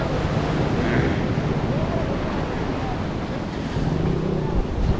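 Sea waves wash onto the beach at Gopalpur in a continuous loud roar of surf, with wind buffeting the microphone throughout and no clear breaks between the breakers.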